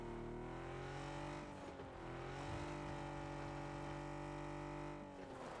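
Car driving past in the PUBG battle royale game: a steady, droning engine hum with slight pitch shifts as it passes, moderately faint, with no talk over it.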